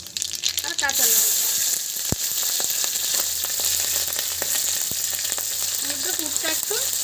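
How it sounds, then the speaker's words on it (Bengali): Nigella seeds and green chilli temper in hot mustard oil, giving a loud, constant hiss with sharp crackles and a few stirring clicks. A voice is faintly heard briefly at the start and near the end. "এবার ফোড়নে কিন্তু একটু কালো জিরে দেবো আর কাঁচা লঙ্কা।"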